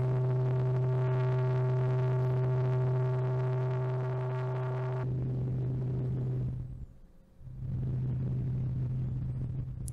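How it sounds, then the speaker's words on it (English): Filtered white noise from the Moog Model 15 iPad synthesizer app gives a wind-like rushing hiss, first over a droning tone and then alone. It swells and fades, dips almost to silence briefly, and returns steady with no voices. "You can really hear like the wind sound."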